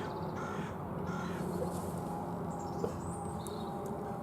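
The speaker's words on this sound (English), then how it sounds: "Bloody crowing yonder tree." Crows caw from a tree at an allotment, a few faint distant calls over steady outdoor background noise.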